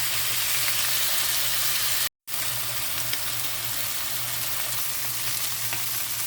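Pork chops frying in a pan, left untouched to brown on the second side, a loud, steady sizzle that cuts out briefly for an instant and then continues evenly.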